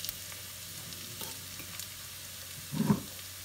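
Roasted Thai chili paste (nam prik pao) is stir-fried in a pan over low heat: a quiet, steady sizzle with a couple of soft scraping touches and a louder stir near the end.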